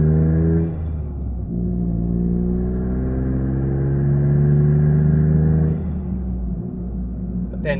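A Toyota GR Corolla with an MBRP catback exhaust pulls steadily as the revs climb, a loud, smooth engine and exhaust hum rising in pitch over several seconds, then dropping briefly at a shift before building again.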